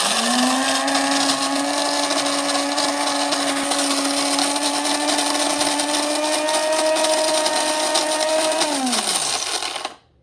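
A Cuisinart DBM-8 Supreme Grind burr mill grinding four tablespoons of coffee beans on the coarse setting, with a loud, steady motor whine and gritty rattle that runs evenly, then winds down in pitch and stops abruptly.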